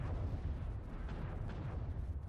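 Artillery fire in a mech combat game lands close by as dull, rumbling booms that roll continuously through a short stretch with no voices.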